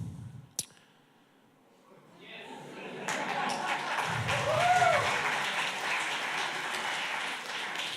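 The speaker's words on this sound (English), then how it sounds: "so this applause, I believe that was for the speakers, for all of you" Audience applause breaking out after a round of lightning talks at a conference, starting thin and quiet and swelling into steady, dense clapping that holds for several seconds.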